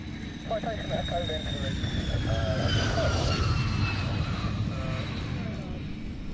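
A Belgian F-16 Viper fighter jet flies a display at an air show, a loud continuous engine roar whose pitch slowly shifts as it passes, with a commentator talking over it.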